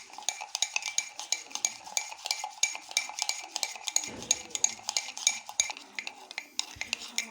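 Rapid rhythmic clinking of a spoon whisking instant coffee mixture by hand in a cup for homemade cappuccino, steady quick strokes throughout, close and clear, with no talking.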